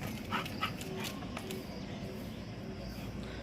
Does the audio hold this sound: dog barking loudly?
yes